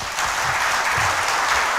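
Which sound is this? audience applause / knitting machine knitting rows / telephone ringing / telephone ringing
audience applause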